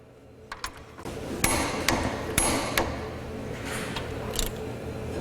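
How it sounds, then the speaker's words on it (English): A torque wrench tightens a 12mm tie rod bolt on a Can-Am Maverick X3 RS, producing a series of sharp metallic clicks and knocks at irregular intervals over a low background hum. "So grab your torque wrench and run down to 60 foot-pounds."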